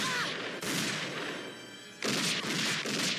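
Gunfire in a 1992 film, a few loud blasts and crashing bursts, with a brief gap before a second heavy burst.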